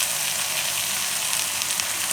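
Coriander-cumin powder and red chilli powder frying and being stirred in a pan over a raised gas flame for Gujarati dudhi (bottle gourd) shaak, giving a steady, close, even hiss with no talk.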